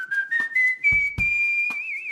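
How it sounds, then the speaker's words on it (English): A person pucker-whistles a short, clear rising melody of sustained pitched notes, close and solo, with a few soft breathy bursts between notes. "There's, of course, pucker whistling. That's what I do."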